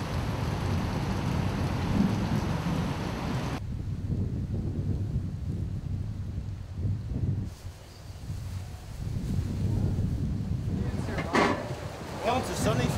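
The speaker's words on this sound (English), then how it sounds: "I've never seen this much rain before, but. Downpour." Heavy rain pours down in Florida in a dense, continuous roar, with gusty wind buffeting the microphone and voices talking underneath.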